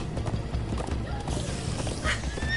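Horse hooves clip-clop in a quick, even rhythm during a ride, close and fairly loud, with a brief whinny near the end.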